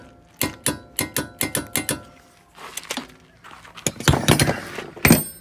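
A torque wrench tightens the axle nut on a 1996 Honda Civic during an axle install: a quick, evenly spaced series of about eight sharp metallic clicks, followed by scattered clanks and knocks of tools against metal.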